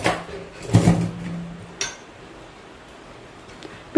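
Metal grill tray supplied with a microwave oven being handled, giving a clattering clank near the start and a second lighter knock a second later, then a quiet room.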